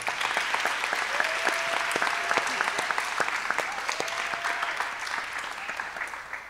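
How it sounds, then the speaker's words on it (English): An audience applauds after a mridangam arangetram, a Carnatic percussion debut recital: dense, lively clapping that holds steady, with a faint tone sounding partway through, then slowly thins toward the end. "Let's give them all a round of applause."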